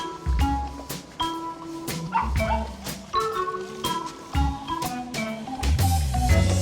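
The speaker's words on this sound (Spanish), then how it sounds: "Vamos a ver cómo se va a comportar Mayo con los perros" Dogs barking and yipping in repeated short bursts, fairly close, with some whimpering between the barks; no talking.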